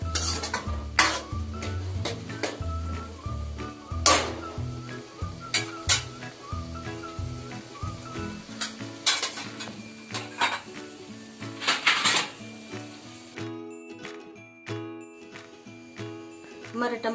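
Fried tomatoes and yogurt are stirred in a pan for a vegetable biryani, with repeated sharp clinks and scrapes of a spoon against metal over a soft sizzle and steady background music.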